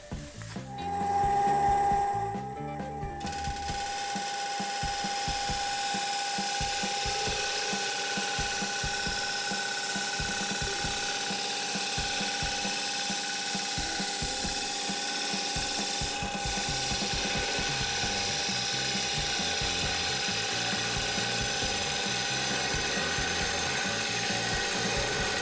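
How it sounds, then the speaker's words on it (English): A woodturning gouge is resharpened on a grinder: a steady, continuous high whine and hiss that runs throughout with a brief louder rise near the start, close and unbroken, with no talk. "I'm going to go and resharpen my gouge."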